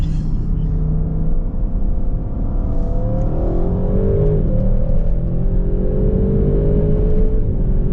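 An Audi RS6 or Porsche Taycan 4S launching hard on a street, heard as a loud, continuous low rumble and whir with a rising tone as the car accelerates, recorded close from inside.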